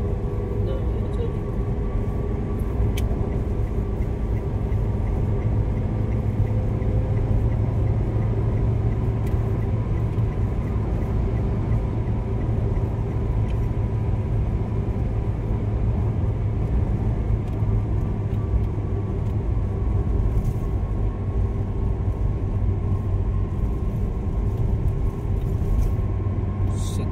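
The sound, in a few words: car speeding at 100 km/h on a toll road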